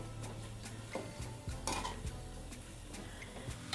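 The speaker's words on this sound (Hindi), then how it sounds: "अब इसको 2 मिनट के लिए मैं इस तरह भून लूँगी इसके अंदर ही।" Peas and potatoes are sautéed in a pot, with a close, steady sizzle broken by repeated scrapes and clinks of a spoon against the metal, and no voices.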